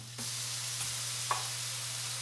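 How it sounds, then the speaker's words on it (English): French toast sizzles gently in a frying pan, a soft steady crackle with a couple of faint clicks over a low hum. "sizzle."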